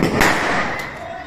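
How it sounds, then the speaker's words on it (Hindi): Diwali firecrackers bursting in a busy market, with a sharp pop near the start and another around the middle over a constant noisy wash of the crowd. Voices can be heard in the background. "यहाँ पे अलग ही पटाखे पटाखे फूट रहे हैं।"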